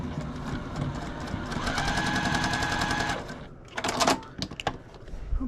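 A sewing machine runs steadily while stitching a quilt seam on a Quilts of Valor block made from half-square triangles, a rapid rattling hum for about three seconds before stopping, followed by a few sharp clicks and handling noises.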